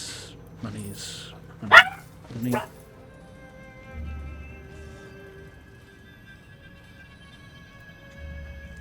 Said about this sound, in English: And Dawn having a little bit of a bark